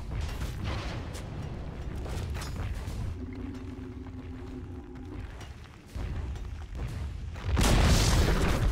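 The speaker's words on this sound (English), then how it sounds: "Dire's top tower has fallen." Tower being destroyed in a Dota 2 match, heavy booming crashes and rumbling impacts with a brief tonal mechanical hum partway through, ending in a loud, bright burst.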